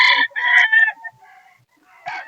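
Roosters and chickens at a poultry market in Bocaue, Bulacan: a loud close crow in broken bursts, then a quiet gap and another cluck-like call.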